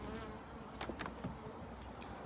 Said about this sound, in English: the bumblebee